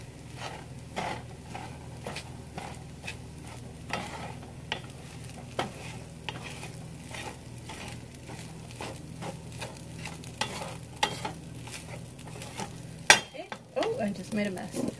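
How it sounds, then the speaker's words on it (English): Cooked rice frying and being stirred in a hot pan for a quick shortcut fried rice, with a steady low sizzle, repeated scraping stir strokes and a sharper utensil clatter near the end. "And I'm gonna dump our rice in there"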